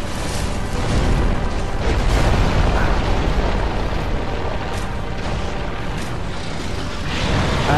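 Seath the Scaleless, a dragon in Dark Souls, spewing poisonous fire: a continuous loud roaring, crackling blast with rumbling low end that swells and holds for several seconds, no voices over it.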